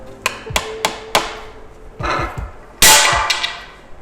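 A hammer tapping metal lamp legs into place, several sharp separate knocks, then softer muffled thuds and a louder ringing strike with rattle near the end.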